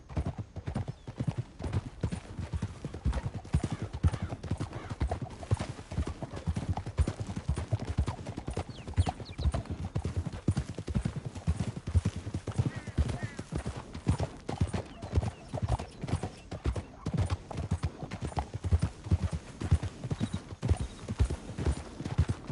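Steady clip-clop of horse hooves from riding in Red Dead Redemption 2, a continuous rhythmic trotting beat running throughout, with a brief horse whinny and some talk over the galloping.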